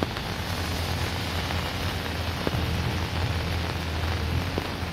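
Torrential monsoon downpour drums steadily on surfaces, a loud, dense, unbroken hiss of heavy rain with a low rumble beneath and no voices.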